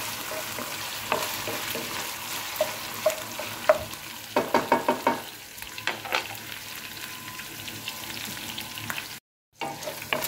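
Onion sautéing in a pan for a squash and bitter gourd dish, a continuous close sizzle broken by quick bursts of spatula scraping, with a brief silent gap near the end.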